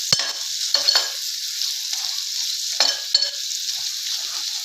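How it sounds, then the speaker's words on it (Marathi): Okra (bhindi) stir-fried in oil with besan masala, a soft continuous sizzle broken by a few sharp spatula scrapes and clacks against the pan, close and alone. "परतवून घेऊया 2 मिनिट।"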